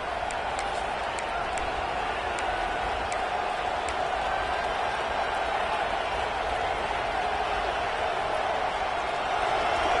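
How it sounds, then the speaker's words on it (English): Steady, loud crowd roar fills a football stadium during the second quarter as fans cheer on the defense, a dense continuous wash of voices and applause with no break. "The roar of the crowd trying to fuel this defense to keep them pinned in their own end."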